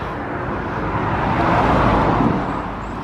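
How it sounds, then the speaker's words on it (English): A car drives past outdoors as a broad, steady road rumble that swells to a peak midway and then eases slightly, heard on its own. "I'll just wait for this car to go past."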